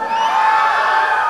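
A school annual day audience screams and cheers loudly, a dense sustained crowd roar with high children's voices blending into one continuous wash of noise.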